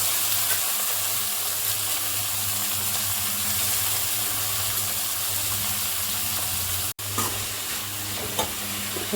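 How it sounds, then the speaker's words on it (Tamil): Broad beans drop into a pan of well-sautéed onions and fry with a steady, loud sizzle and hiss, stirred now and then, with a brief break near the end. "நல்லா வெங்காயம் நல்லா வதங்கிடுச்சு. இப்போ நம்ம அவரைக்காவை போட்டுக்கலாம்."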